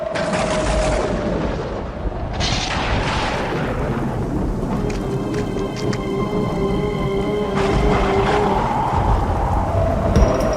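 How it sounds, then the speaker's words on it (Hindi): Steady rain pours throughout, with low rumbling thunder rolling beneath it and occasional sharper cracks. "लगता है बारिश होने वाली है।"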